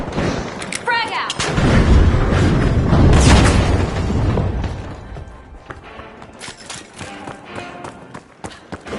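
In the video game The Finals, a grenade goes off as a loud, rumbling blast that swells and slowly fades, with scattered gunfire and game effects crackling around it.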